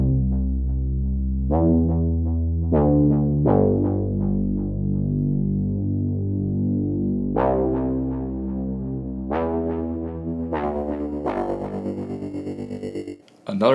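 Synth bass notes play in a music production breakdown, each note striking hard and then sustaining while the filter cutoff gradually opens and the tone grows brighter, with effects-laden glitchy hits near the end.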